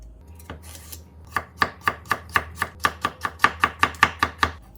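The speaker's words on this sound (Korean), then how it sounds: "쭈꾸미 볶음에 들어갈 이런 제 재료 썰어 보겠습니다" A knife chops vegetables on a cutting board for stir-fried webfoot octopus, about fifteen crisp, even strokes speeding into a steady rhythm. The chops are close and sharp, with no talk.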